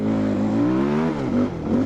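A 2010 250cc four-stroke enduro motorcycle engine revs steadily up close, its pitch rising and falling over a couple of seconds with no voices.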